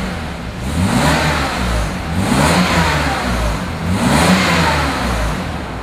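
A BMW 850i's V12 engine running after start-up, with a steady mid-pitched hum that swells in repeated revs, heard close and fairly loud with no talking.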